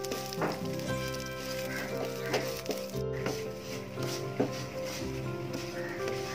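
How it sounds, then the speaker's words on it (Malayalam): Vermicelli fries in a pan for payasam, giving a soft, continuous sizzle with light scrapes of stirring. Steady background tones sit underneath, and no voices are heard. "സേമിയ നമുക്ക് ഇതിലോട്ട് ഇട്ടൊന്ന് വറുത്തെടുക്കാം"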